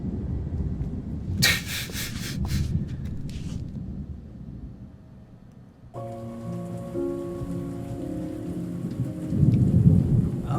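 Rain pours steadily with a low rumble of thunder in the horror game Remothered: Tormented Fathers, first alone and then beneath soft sustained piano notes.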